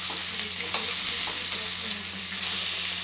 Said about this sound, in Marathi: एक पाच मिनटं आपण यांना छान परतून घेऊया